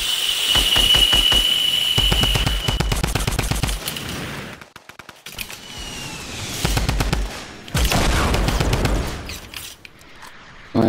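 Rapid automatic gunfire in a shooter video game, loud, close bursts of evenly spaced shots separated by short pauses, with a high ringing tone early on.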